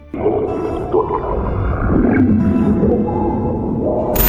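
A deep, reconstructed roar of the prehistoric marine reptile Nothosaurus, one long, loud, continuous rumbling bellow with a resonant, drawn-out tone and no speech.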